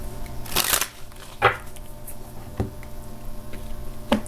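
Tarot cards being shuffled by hand in a few separate bursts of crisp riffling, close and fairly loud, with quiet gaps between.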